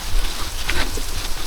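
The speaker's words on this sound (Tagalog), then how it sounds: "Umuulan na." Steady rain patters and hisses close by at a resort in Mindoro, Philippines, a continuous wash of falling drops with no voices.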